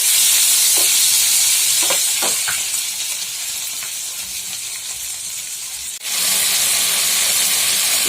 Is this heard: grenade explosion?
no